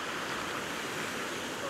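Steady rushing water from a waterfall where three waters meet at the start of the River Coe, a constant broadband roar with no breaks and no voices.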